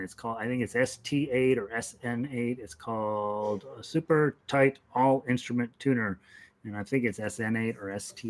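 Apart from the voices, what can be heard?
None of the usual background noises is heard.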